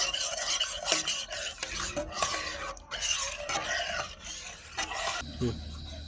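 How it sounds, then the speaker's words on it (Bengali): Food colour stirred into milk in a pot makes quick, busy scraping strokes of a spoon against the metal, with a faint sizzle underneath, continuous and close. "এবার এটাকে আমি ভালো করে মিশিয়ে নেব"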